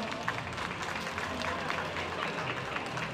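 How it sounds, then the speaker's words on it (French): Crowd applauding a mascot at the opening ceremony of a 24-hour endurance race, a steady, moderately loud patter of clapping from an outdoor gathering under a low rumble of background noise. "on peut applaudir la mascotte quand même"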